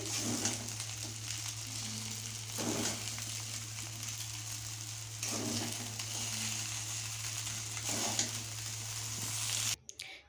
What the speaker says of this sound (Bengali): চাউমিনটা সিদ্ধ হয়ে গেছে, ভাজা বসিয়ে দিয়েছিলাম, আর সবজিগুলো দিয়ে দিয়েছি, সব দিয়ে একসঙ্গে নাড়া হচ্ছে